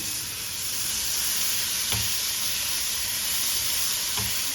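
A large tomato sautés in a pan for a tomato yogurt curry, giving a steady close sizzle with two soft stirring knocks, no voices.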